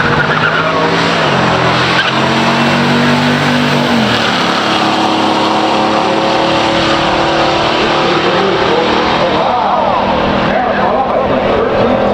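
Pure stock drag race between a 1964 Plymouth Belvedere Max Wedge with TorqueFlight automatic and a 1969 Camaro SS: loud, sustained engine roar and tire noise dominate, with an announcer talking over the din.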